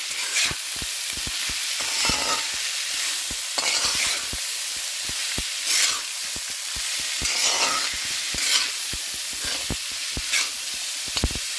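Chopped ivy gourd is stir-fried in a pan for thoran, giving a bright continuous sizzle broken by rapid, repeated scrapes and taps of a spatula, close and alone without speech.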